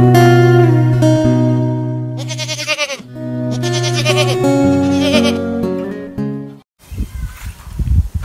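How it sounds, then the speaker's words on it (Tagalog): Goats kept on a rural backyard farm bleat loudly and closely, several long wavering calls overlapping in bursts before a short pause and rustling movement. "Ngayon ay ibabagi ko sa inyo mga bay ang aking mga alagang kambing"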